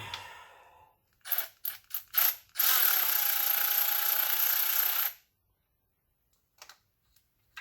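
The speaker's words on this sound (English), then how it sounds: "I'm gonna put my ratchet on this just to get it a little quicker" A ratchet with a deep-well socket turns bolts on a BMW E90 N52 valve cover, a few short clicking bursts followed by a long steady ratcheting run, close and alone, then a couple of faint clicks.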